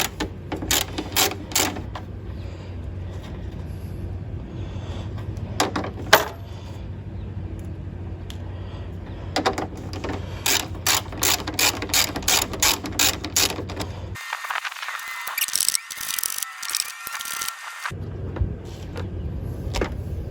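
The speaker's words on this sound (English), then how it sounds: "that is a 7mm to take those 2 bolts off" A ratchet with a 7mm socket backs out two bolts under the hood of a Pontiac G6 during a thermostat replacement, close, crisp clicking in quick repeated runs with short pauses between strokes.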